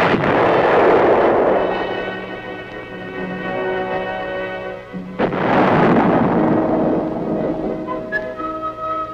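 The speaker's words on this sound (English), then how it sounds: "muzzle blast is a potential source of damage and a hazard to the crew" A tank gun fires at the Aberdeen Proving Ground, giving two massive booming muzzle blasts about five seconds apart, each rolling into a long, heavy rumbling decay over faint background music.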